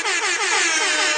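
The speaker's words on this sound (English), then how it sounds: "Give your air horn." Blaring air horn sound effect, one loud continuous honk with a wobbling, pulsing tone lasting just over a second, alone and up close.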